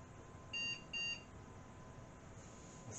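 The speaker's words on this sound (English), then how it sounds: "With some beeps." Two short electronic beeps from a PC starting up sound in quick succession over a low steady hum, faint and close by.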